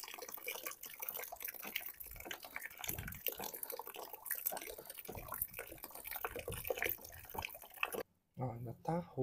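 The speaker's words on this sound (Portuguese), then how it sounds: "Vamos colocar mais água só para facilitar a minha vida." Water poured into a homemade liquid laundry soap mixture, a steady rushing and splashing pour heard close up, with a person talking over it before it briefly cuts off.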